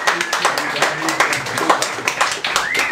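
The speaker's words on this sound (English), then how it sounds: "can we have a big round of applause?" Audience applause at an open mic night, a dense patter of many hands clapping close by, with voices talking and cheering over it throughout.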